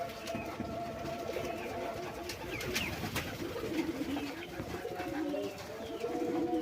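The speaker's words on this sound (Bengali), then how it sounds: "কবুতর হাল্লা করতেছে" Pigeons coo continuously in low, throaty rolling calls, several birds overlapping close by, with occasional brief chirps and clatter in the background.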